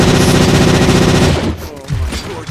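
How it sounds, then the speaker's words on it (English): UED guns fire in Robocop Rogue City: a loud, rapid automatic burst for about a second and a half, then it cuts off into a few echoing tails and scattered bangs. "Oh, those UEDs shoot so beautifully."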